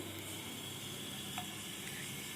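A lactose sample solution heats on a boiling water bath with a steady bubbling hiss and sizzle that carries on unbroken at moderate loudness, with no talk over it.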